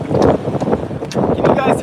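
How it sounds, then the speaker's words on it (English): Strong wind with rain rushes and buffets the microphone in loud, steady gusts, a rough roar with no pause. "Can you guys hear the wind?"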